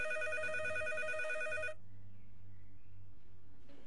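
A home telephone rings loudly with a steady electronic bell tone for under two seconds, then cuts off, leaving quiet room ambience and faint background music.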